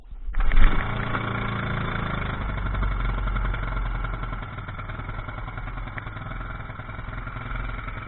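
A Honda 2.3 outboard motor, just back from a carb rebuild and started with the choke on, catches almost at once and settles into a close, steady clattering run that lasts to the end.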